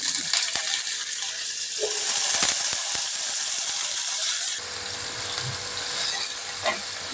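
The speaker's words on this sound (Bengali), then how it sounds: "সসেসগুলোকে একটু ভেজে নিচ্ছি, চুলার আঁচটা হাই রেখেছি।" Chicken sausages frying in about five tablespoons of hot oil in a pan over high heat, a steady close sizzle with scattered pops and faint clinks running throughout.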